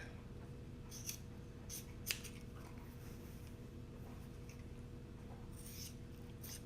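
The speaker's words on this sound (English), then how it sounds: "So we're gonna trim this off very carefully." Scissors snip excess fabric from a sewn neckband in a few sparse, quiet cuts, each a brief crisp click over steady low room hum, with no talking.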